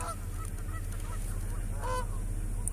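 Geese honk repeatedly beside a pond with ducks, a scattered series of nasal calls at moderate distance over a steady low background hum.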